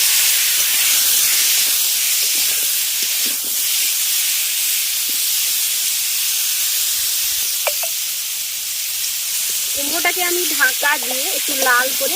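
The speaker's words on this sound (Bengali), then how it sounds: "লবণ আর হলুদটা দিয়ে কুমড়োটাকে আমি আগে ভেজে নেব" Pumpkin pieces fry in a pan with salt and turmeric, making a continuous loud hissing sizzle throughout. A few faint tonal sounds come in toward the end.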